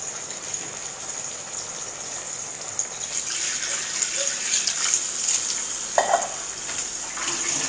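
A wet rough blend of tomato and pepper sizzles and bubbles in a hot frying pan, with a steady hiss, occasional stirring scrapes, and spattering pops.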